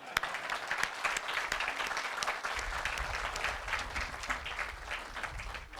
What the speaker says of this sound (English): I want everyone present to join me in giving a round of applause to everyone here